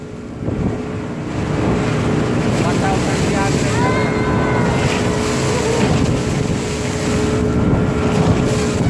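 A steady, loud speedboat engine drone with heavy wind buffeting the microphone, continuous throughout, with brief rushes of water, off Boracay.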